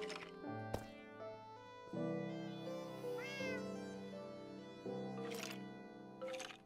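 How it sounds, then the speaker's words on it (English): Cat meowing in Minecraft over steady background music, with a short, near mew around the middle and a few soft clicks. "I heard that little meow."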